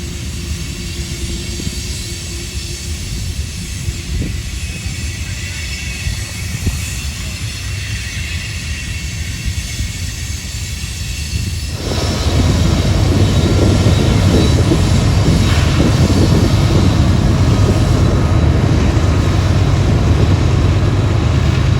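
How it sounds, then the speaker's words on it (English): An eastbound Union Pacific train climbs the Tehachapi Loop, a steady distant rumble that suddenly grows into a loud, heavy roar of engines and rolling wheels partway through, with no talk. "just in time to catch an eastbound Union Pacific train climbing the loop"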